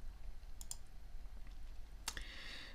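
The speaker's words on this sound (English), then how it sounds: "I click on Edit" A computer mouse gives a few faint, crisp clicks close by against a quiet background with low hum, including a quick pair early on and a sharper single click near the end.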